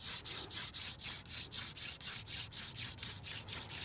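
Steady rhythmic scraping, about three strokes a second, a rough raspy rub of a bone tool along a wooden atlatl dart, close and continuous.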